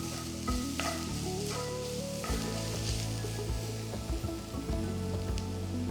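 Crushed garlic and finely chopped green chillies sizzle steadily in a hot pan while being stirred, with occasional scraping clinks, close and alone without any talking.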